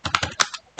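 Short bursts of key presses on a computer keyboard, four or five quick clusters of clicks with a brief pause before the last, close and fairly clear with no talking.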